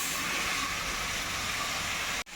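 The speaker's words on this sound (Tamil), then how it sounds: "இப்போ நான் இதை வந்து மிக்சியில் கொடுத்து அரைச்சி எடுத்துக்கப்புறேன்" A mixer grinder grinds roasted rice and moong dal with a steady, loud, dense whirring roar that runs unbroken, then cuts off abruptly near the end.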